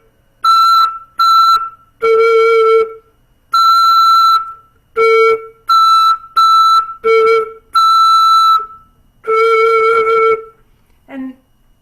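A beginner flute lesson: about a dozen short, clear flute notes, played close and fairly loud, stop and start in an uneven rhythm, with no other sounds.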